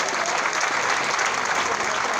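Audience applause at a political opposition gathering, steady dense clapping from a crowd throughout, loud and sustained with no gaps.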